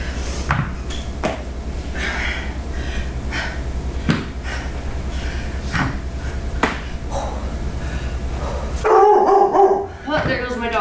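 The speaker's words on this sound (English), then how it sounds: "there goes my dog" A dog barks a few times near the end, loud and close, following steady background noise during a home workout; a person's voice is also present.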